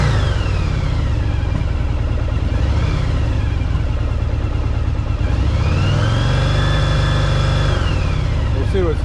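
A 1984 Yamaha Virago 1000 motorcycle engine runs loud and close for the whole stretch, a steady low rumble that rises and falls with revving, with a slight backfire.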